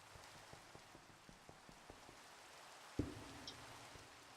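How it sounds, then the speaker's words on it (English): Rain falling in the modded video game Minecraft, a faint, steady patter with soft regular ticks, then a single sharper thump near the end. "I think it's just started raining in game."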